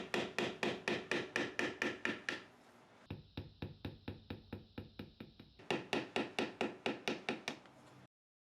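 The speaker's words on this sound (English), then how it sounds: "A slight tap and a punch, or maybe even a screwdriver, can remove these." Light hammer taps on a punch driving pins out of a power mirror motor frame from a GM truck or SUV, a steady run of crisp metallic knocks at close range, pausing briefly before the tapping resumes at the same even pace.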